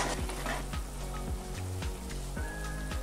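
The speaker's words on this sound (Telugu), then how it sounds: "ఇది సుమారు ఒక 8 నిమిషాల వరకు ఇలా కలుపుతూనే మనం వేపుకోవాలి" Ripe red chillies fry in oil for a Schezwan chutney, giving a steady, close sizzle with the regular scrape and knock of a spoon stirring through the pan.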